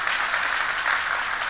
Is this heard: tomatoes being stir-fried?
no